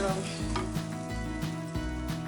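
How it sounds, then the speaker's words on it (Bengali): Hot water hits a pan of well-fried spices, giving a steady, close sizzle that holds for a couple of seconds over soft background music. "এবার আমি এর মধ্যে জলটা দিয়ে দিচ্ছি।"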